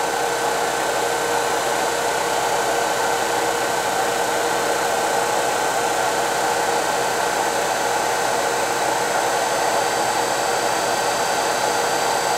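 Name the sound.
EV conversion electric motor spinning flywheel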